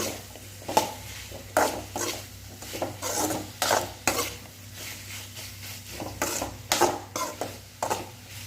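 Carrots, beans and other vegetables for sambar are being sautéed in a pan. A spatula scrapes and stirs them in repeated rhythmic strokes over a soft, steady sizzle, heard close up with no talking.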